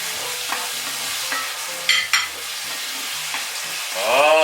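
Capers tumble into a hot pan of spicy tomato shrimp pasta sauce, giving a steady close sizzle with a couple of sharp clinks partway through and a louder hissing surge at the end.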